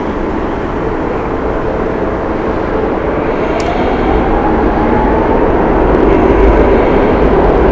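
An airliner landing at Heathrow in a strong crosswind gives a loud, steady, broad roar that holds and swells slightly toward the end, with no voices.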